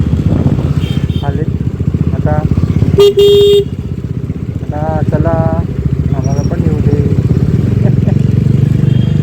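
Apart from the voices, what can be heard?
passing motor vehicles, motorcycles on the road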